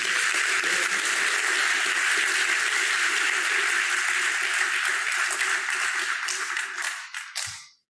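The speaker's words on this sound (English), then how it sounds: "Could we give a hand of applause to Eastern Cape?" Sustained audience applause at a school outreach gathering in the Eastern Cape, dense and loud clapping from a large crowd that carries on steadily for several seconds before tapering off at the end.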